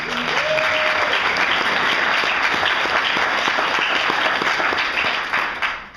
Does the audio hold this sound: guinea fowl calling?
no